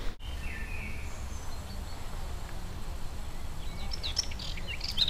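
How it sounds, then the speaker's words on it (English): Faint, sparse bird chirps high over a steady low outdoor rumble on Seurasaari island, growing a little busier toward the end. "Birds, can you hear?"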